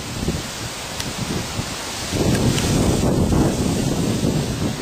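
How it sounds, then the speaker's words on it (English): Strong gusty wind from a thunderstorm gust front buffets the microphone in loud roaring rushes, intensifying sharply partway through and staying heavy. "Big gust front coming through."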